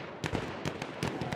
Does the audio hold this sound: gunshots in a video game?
yes